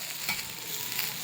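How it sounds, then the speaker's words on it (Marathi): Bajra (millet) flour thalipeeth sizzles steadily in an oiled pan just after being flipped, a close, continuous crackling fry without talk. "हा पलटी करून घ्यायचा."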